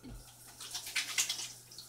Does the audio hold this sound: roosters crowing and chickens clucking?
no